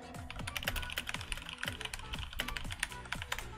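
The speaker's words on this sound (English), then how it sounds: "they want that keyboard ASMR" Rapid, uneven clatter of keys on a computer keyboard, close and steady throughout, with no voices.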